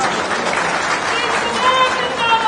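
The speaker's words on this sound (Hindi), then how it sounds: "मंचासीन सभी नेताओं के लिए जोरदार ताली बजा दीजिए।" Loud, steady applause from a political rally audience for the leaders seated on stage, dense clapping filling the whole stretch with crowd noise and some voices mixed in.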